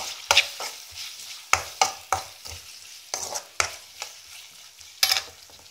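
A spoon stirring chicken with mushrooms and garlic in a pan: sharp, irregular scrapes and knocks against the pan over a soft sizzle, close and fairly loud, with no talk.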